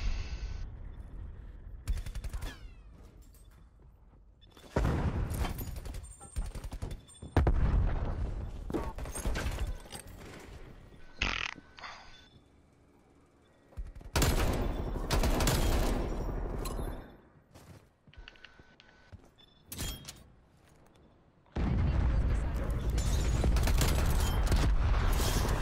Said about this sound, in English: That shotgun is ridiculous.